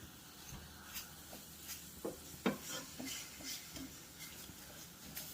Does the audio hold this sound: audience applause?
no